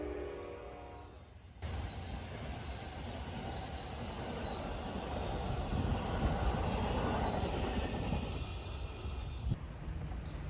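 Amtrak Crescent train 20, led by heritage locomotive Amtrak 130, passes through Purvis, Mississippi, as a sudden loud rush of rolling rail noise and engine roar that holds steady, then cuts off abruptly near the end.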